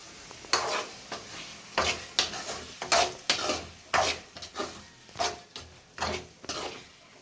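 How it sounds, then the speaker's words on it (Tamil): Chicken curry base with salt and tomatoes stirred in a pan, a spoon scraping in repeated strokes roughly every half second, close and fairly loud, with a soft sizzle underneath and no talking. "உப்பு போட்டு நல்லா கிண்டிடும்."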